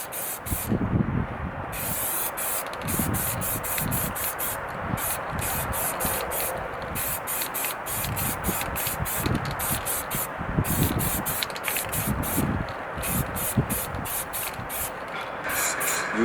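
Alloy wheels getting a second coat of spray paint, long hissing bursts from the spray can broken by brief pauses and rattly gaps, close and fairly loud, with no talking.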